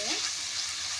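Brief, steady sizzle of dough frying in a pan over low to medium flame for a yeast-free homemade pizza, a continuous bright hiss with no other sounds.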